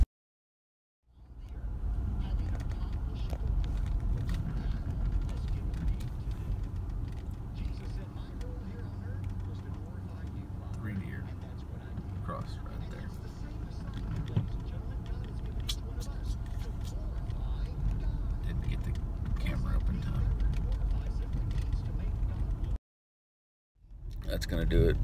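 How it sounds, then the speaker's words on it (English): Inside a car driving along a road, a steady low rumble of engine and tire noise runs for most of the time, cutting out briefly near the end before starting again. "we're going to drive over to this other place"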